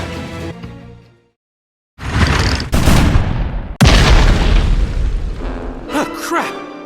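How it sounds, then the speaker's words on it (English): Cannon fire in the video game Grand Kingdom: after a short silence, loud heavy booms strike one after another, each followed by a rumbling roll, with a voice joining near the end. "Oh, crap! Cannon fire!"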